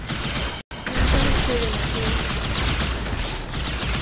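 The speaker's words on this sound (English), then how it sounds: "Something's shooting at you." Gunfire in the Halo Master Chief Collection video game, a dense, noisy burst of shooting and effects after a brief dropout, loud and continuous for several seconds.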